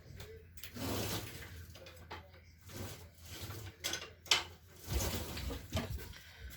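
Kitchen utensils rattled and shuffled while someone grabs a spoon, a series of quiet clinks, knocks and clattering bursts spread irregularly across several seconds, fairly close but low in level.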